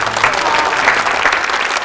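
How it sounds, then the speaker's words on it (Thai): Loud applause from a live audience at a cover concert, a steady wash of many hands clapping close and continuous throughout. "ขอเสียงปรบมือดังๆนะฮะ"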